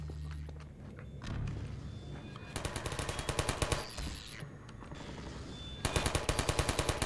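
Automated turret gunfire in the video game Half-Life 2 rattles out in rapid bursts, with game ambience and scattered impacts between them, fairly close and with no voices.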